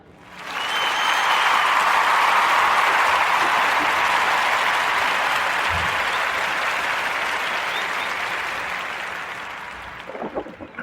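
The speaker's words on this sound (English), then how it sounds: "join me into giving Mrs. King a Warm Narrative Podcast round of applause" A live podcast audience applauds for Mrs. King, broad sustained clapping that swells quickly, holds for several seconds, then thins out toward the end.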